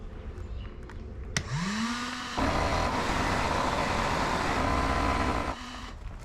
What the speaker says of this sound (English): I have a heat gun, small air compressor,